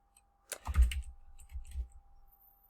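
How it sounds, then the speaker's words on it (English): Bursts of typing on a computer keyboard, close and clear, with quick uneven clicks in two short runs and no talking. "And I'll type in"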